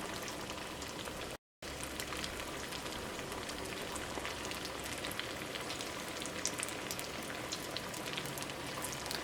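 Potato vadas fry in oil over a high flame, making a dense, continuous crackling sizzle that holds steady throughout apart from one brief silent gap.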